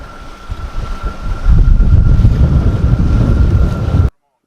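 Strong wind buffets a fishing boat trolling on a lake with whitecaps, a steady roar with gusts and water noise rising loud, plus a faint engine hum, alone with no talk.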